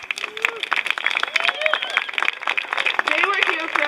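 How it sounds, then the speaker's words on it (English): Outdoor crowd applauding and cheering for the hosts at Homewood Mountain Resort after a 200-mile endurance run, a steady wash of clapping with a voice talking over it. "Big round of applause for them"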